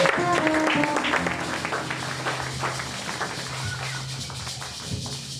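A church congregation claps and cheers to acclaim Christ. The loud applause fades over a few seconds, with a low voice or hum underneath.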